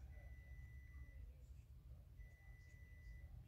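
Two long electronic beeps sound at a steady pitch, separated by a pause, faint against a low background rumble.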